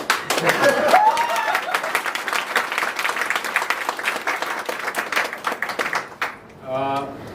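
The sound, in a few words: audience applause after a play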